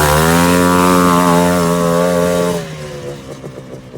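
A quad bike engine revs hard and steady near the mic, a loud sustained drone with rising pitch that drops off abruptly after a few seconds into a rougher, uneven idle.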